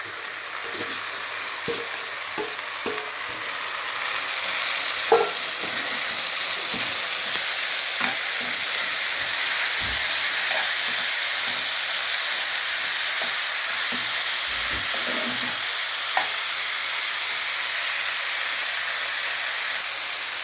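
Shrimp and stick fish fry in oil in a pan, a continuous steady sizzle and hiss with scattered soft clinks and taps from the utensil, no talking.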